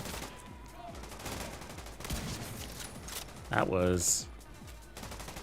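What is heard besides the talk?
gunfire from sniper rifle in video game The Division 2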